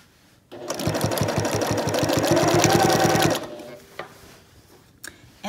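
A sewing machine stitches binding onto a quilt in one steady burst of rapid needle strokes lasting about three seconds, followed by a few quiet clicks and handling sounds.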